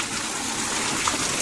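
Natural spring water pouring from three spouts at a Hindu temple, a steady close gush of flowing water running continuously without pause and with no talk.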